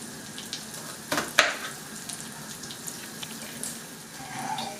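Quiet sizzling of food frying in a pan over low heat while making żurek, with a few clinks and scrapes of a utensil against the pan.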